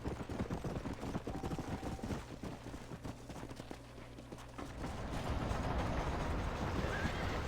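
Horse hooves clatter steadily in Red Dead Redemption, with a whinny and snorts mixed in, close and loud over game ambience and music, then a thicker rushing noise building toward the end.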